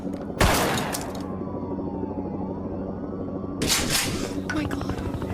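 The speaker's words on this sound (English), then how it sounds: "Fine, I'll start shooting anyway!" Dramatised gunfire from the 1999 Columbine library shooting: a loud gunshot burst near the start, a sustained noisy rumble, then another close burst of shots later.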